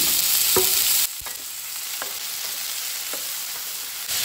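Onion fried to light pink sizzles steadily in a pan as tomatoes and green chili go in; a loud hiss drops softer after the addition, with a few sharp utensil clinks spaced through it and no talking.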